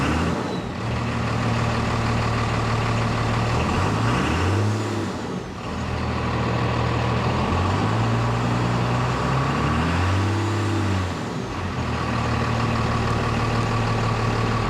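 A first-generation crew cab truck engine idles steadily at close range, its low drone rising and falling twice as the revs briefly climb and settle, with no talk over it.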